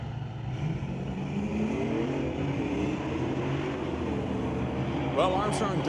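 A 2024 Ford F-150 with a 5-liter engine and a Dodge Dart launch side by side at a door-car drag race, their engines roaring steadily and loud under continuous announcer commentary.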